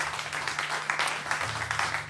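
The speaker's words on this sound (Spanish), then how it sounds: "En aplauz za Jana" Studio audience applauding at a live radio concert, a dense steady wash of clapping lasting the whole moment, with a low musical hum underneath.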